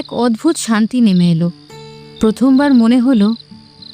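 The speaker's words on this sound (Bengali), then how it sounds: "চারপাশে শুধু ঝিঝি পোকার ডাক" Crickets keep up a faint, continuous high chirring beneath a man's close, clear narration, carrying on through the pauses between his phrases.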